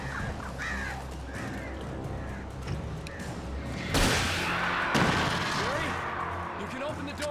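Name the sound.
crows cawing in the video game Alan Wake Remastered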